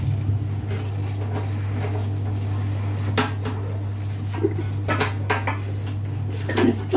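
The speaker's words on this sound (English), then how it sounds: "Let's get this mixed off so that I can use the teaspoons more easily." Metal teaspoons clink and scrape against a bowl while ground cinnamon and spices are mixed for Swedish pepparkakor cookies. Scattered taps and scrapes sit over a low steady hum in a kitchen, with no talking.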